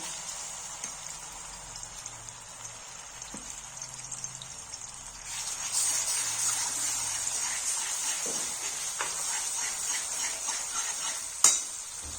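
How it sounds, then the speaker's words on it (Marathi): Leftover masala drops into two ladles of hot oil for stuffed brinjal curry, starting as a quiet low hiss, then a louder steady sizzle with scraping stirs and a sharp clink of a ladle near the end. "आता तेलामध्ये आपला जो मगाशी राहिलेला मसाला तो आता आपण ह्याच्यात घालून घेऊ"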